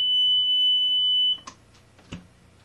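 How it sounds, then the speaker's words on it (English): A steady, high electronic buzzer tone from a gopher electrocution device sounds continuously, then cuts off, followed by a couple of faint clicks and a soft thud. "Audible buzzer, so I can hear it at night."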